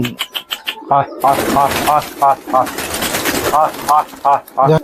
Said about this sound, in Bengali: খুব সুন্দর সুন্দর পায়রা এখানে দেখেছি আমরা